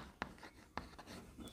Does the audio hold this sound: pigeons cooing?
no